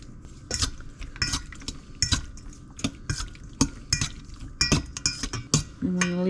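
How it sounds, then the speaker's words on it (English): Peaches being stirred together with cinnamon and nutmeg in a bowl: a brisk run of utensil clinks and scrapes against the bowl, repeated at an irregular pace, close and fairly loud with no talking. "Mix everything together."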